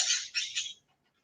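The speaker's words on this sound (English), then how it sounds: "the birds are going to try to out-shout me" Birds sing outdoors during an exercise session, a brief burst of high chirping notes in quick succession that fades out within a second, with no voices over it.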